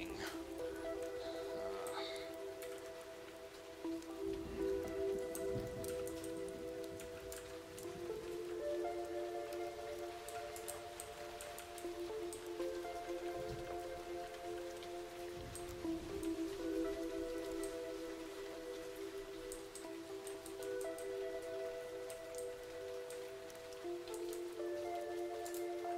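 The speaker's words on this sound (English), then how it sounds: "Oh, by the way, it's raining." Rain falls outside, a soft and constant patter of drops. It sits quietly beneath steady tonal background music throughout.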